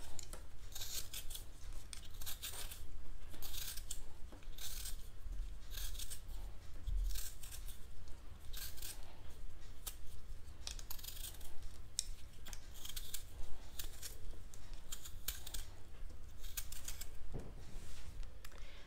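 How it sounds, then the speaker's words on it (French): Potatoes are peeled with a peeler, giving a continuous run of quick, rasping scrapes in close succession, clear and near, with no talking. "je vais venir éplucher mes pommes de terre"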